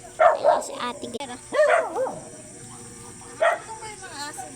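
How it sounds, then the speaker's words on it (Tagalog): A dog gives a few short, nearby barks and yips in separate bursts, mixed with people talking in the background. "Ito ba yung mga aso din?"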